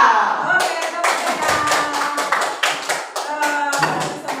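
Students in a school gathering clap their hands in a quick, rhythmic patterned sequence of sharp claps, close and fairly loud, with a voice briefly heard at the start.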